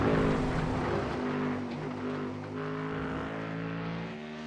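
A Ford Mustang GT3 race car engine roars steadily at a championship race, a loud sustained drone with strong low harmonics and gentle shifts in pitch throughout.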